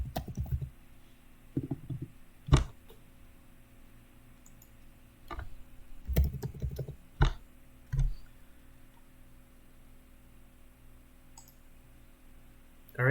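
Sparse keyboard typing while entering code on a computer: a few scattered clicks and short bursts of keystrokes separated by quiet gaps, close and moderately loud.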